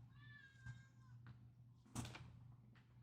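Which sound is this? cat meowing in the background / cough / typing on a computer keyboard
cat meowing in the background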